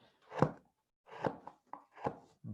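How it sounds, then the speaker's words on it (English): Small wood-carving chisel cutting into a carved wooden foot, four distinct crisp cuts with short pauses between, close and fairly quiet with no talking. "Then I will take that very small chisel."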